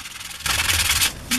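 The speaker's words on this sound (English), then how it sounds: "While sanding this, I discovered how difficult it was to hold these little pieces." Small wooden Christmas tree ornament pieces sanded by hand, a close, raspy rubbing that starts softly and then swells into louder strokes with a brief pause near the end.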